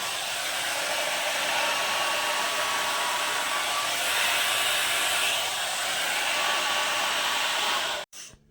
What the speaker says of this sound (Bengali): ড্রায়ার দিয়ে চুল শুকিয়ে দিচ্ছে